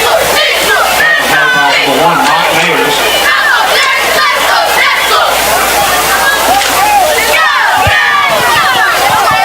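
Large crowd at a high school football game between Forest and Lake, with Lake fans, roars and shouts continuously throughout, loud and dense, under steady talk.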